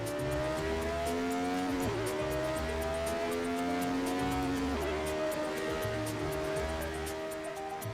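A 1970s Formula One car in the Assetto Corsa racing game, its engine howling loud and steady with repeated gear shifts and rising revs, alone with no talk.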